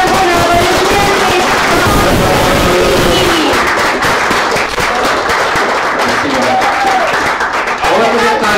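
Sustained loud applause with cheers from the audience at a hackathon award ceremony as the winners are announced, filling the hall while a presenter speaks over it.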